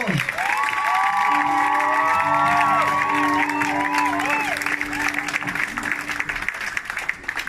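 A church congregation at a Sunday service applauding and cheering, with sustained clapping, whoops and shouted voices rising and falling throughout, plus a long held tone underneath.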